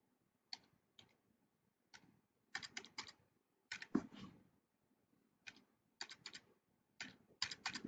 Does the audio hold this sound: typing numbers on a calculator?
yes